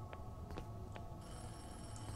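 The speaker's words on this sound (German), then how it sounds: "Das Telefon klingelt." A telephone rings in a horror video game set in a forest, faint repeated bell tones sounding over low background noise, with no talking.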